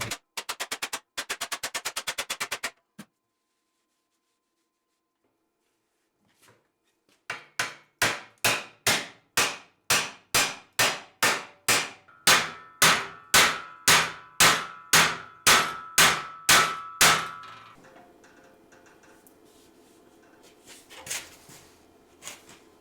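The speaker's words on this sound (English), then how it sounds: "I'm using a combination of a flat dolly and a hammer and a spoon a little bit." Hammer on dolly straightening dented Jeep sheet metal: a short burst of rapid taps, a pause, then a steady run of about twenty loud ringing metallic blows close by, ending in a lingering clang.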